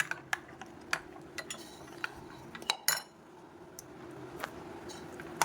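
A utensil clinks repeatedly against a bowl while wheat flour paste batter with salt is beaten, sharp irregular taps close by over a low steady background.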